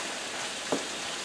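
Onions frying in a pan give a steady soft sizzle throughout, with one brief stir-like rustle partway through and no talking.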